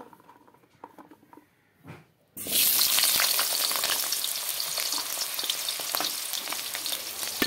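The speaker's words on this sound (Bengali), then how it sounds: "তেল দিয়ে তারপর তেলটা গরম হয়ে গেল, আলুও দিয়ে দিলাম।" Potatoes hit hot oil in a kadai wok, setting off a sudden loud, steady sizzle that starts after a quiet stretch of faint kitchen clatter and keeps crackling densely to the end.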